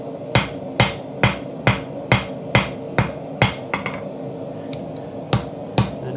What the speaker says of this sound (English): So put this on the anvil, spin it a little bit, start pulling some of that material down to me.